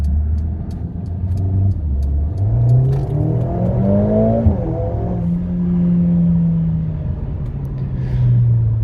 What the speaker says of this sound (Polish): Auto brzmi fajnie, nawet bardzo fajnie, jak na cztery gary